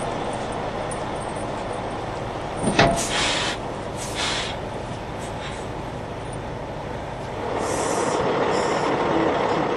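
A truck fitted with one set of AutoSock textile snow socks drives on snow, a steady low engine rumble with a sharp clank partway through and the drone swelling louder toward the end.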